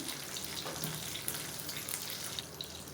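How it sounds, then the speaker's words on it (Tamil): Mustard seeds crackle and splutter in hot oil for a South Indian tempering before curry leaves go in, a steady dense sizzle with scattered small pops heard close up and without talk. "கடுகு வெடிக்க ஆரம்பிக்கும், கருவேப்பிலை சேர்த்துக்கலாம்."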